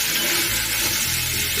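Ground spice masala of coriander, cumin and dried chilli with ginger-garlic paste fries loudly in a pan, a dense continuous sizzle filling the short moment without pause.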